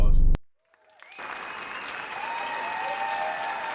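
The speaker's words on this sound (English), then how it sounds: "I'll hold it for the applause" Studio applause swells in after a brief pause, a steady, moderately loud wash of clapping on a sports talk show, with no voices over it.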